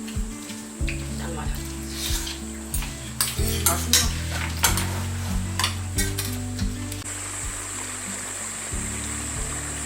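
Sweet potatoes sizzling and frying in a pan, with spatula scrapes and flips clattering at irregular intervals over a steady sizzle; a voice speaks briefly.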